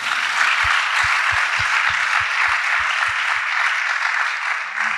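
A church congregation applauds loudly and steadily for several seconds, a dense wash of clapping filling the room with a low rhythmic undertone beneath it.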